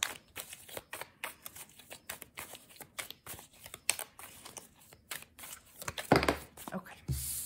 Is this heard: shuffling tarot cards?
yes